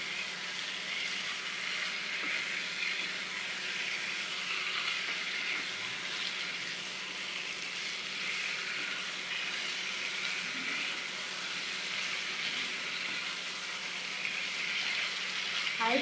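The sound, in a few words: chicken cooking in a pan on high flame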